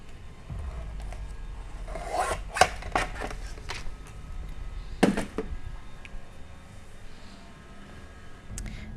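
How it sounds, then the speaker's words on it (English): A few short scraping, slicing sounds of scissors or a blade cutting a clear acetate sheet for a slider card, close up and crisp, separated by quiet rustling. "So I'm going to cut another 1/2 inch off of my acetate."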